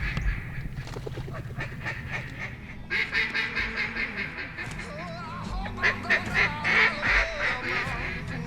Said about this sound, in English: there's just ducks everywhere on the treetops. I mean, flying everywhere. Thick, thousands of them.